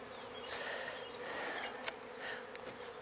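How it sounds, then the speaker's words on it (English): Bees buzz steadily around an empty syrup feeder on top of a beehive, a soft, continuous close-up hum with a few louder passes near the feeder. "So you can see bees coming up to get syrup"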